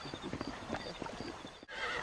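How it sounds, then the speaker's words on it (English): A horse whinnies amid clip-clopping hooves and busy game ambience in a Red Dead Redemption cutscene, the neigh rising clearly over steady background noise before a brief dropout. "Oh, these horses look fresher."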